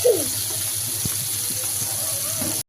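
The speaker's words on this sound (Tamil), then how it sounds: "புளி கரைச்சி வச்சுருக்கோம். குழம்புக்கு ஊற்றிக்கலாம்." Tamarind water is poured into a pot of fish curry, making a steady, close pouring and splashing sound that runs without a break for a few seconds.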